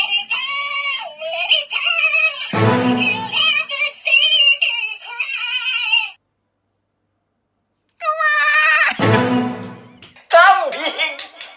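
A high-pitched, wavering goat-like bleating comes from a voice filter applied to a woman's singing, loud and close, broken by bursts of breathy noise and a short silence in the middle.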